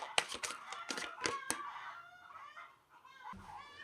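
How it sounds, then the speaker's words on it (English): Chickens cluck in a sharp, rapid run of alarm calls, then trail off into softer, drawn-out clucking, fairly faint with no talking. "I think the chickens were putting out an alarm signal"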